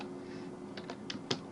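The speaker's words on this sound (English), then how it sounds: "So I would be typing over here WebDriver." A few soft, scattered keystrokes on a computer keyboard while a Selenium WebDriver script is entered, faint clicks over a steady low hum with no talking.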